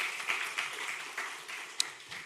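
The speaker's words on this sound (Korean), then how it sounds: "큰 박수로 격려하십시다." A church congregation claps briefly at a Sunday worship service, a moderate, close spatter of applause with a few sharper individual claps standing out.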